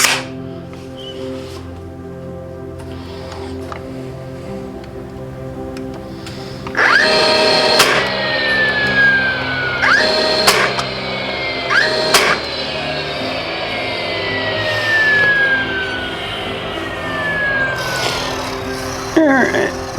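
A battery-powered nailer drives 2-inch nails while a hanging display is being built, firing a few sharp, separate shots several seconds apart over a steady background hum.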